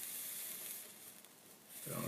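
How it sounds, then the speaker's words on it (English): A hot soldering iron, tipped with a little solder, sizzles in water during a partial refret of a Gibson CL-30 guitar; a faint, steady hiss carries on for two seconds, with a louder burst of bubbling at the end. "I don't know if you can hear it sizzling."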